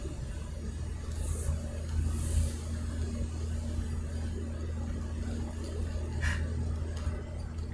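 Steady mid-pitched engine hum from a single-axle car with a deep-geared axle and a 2-litre engine, driving along a rural road near Măng Đen; continuous and fairly close, with a few brief higher whines and no talking.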